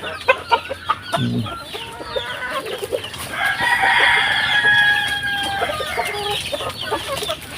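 Pet black chickens cluck near and loud beside ripe jackfruit, with short repeated clucks at first and then a long drawn-out crowing call in the middle, and no talking.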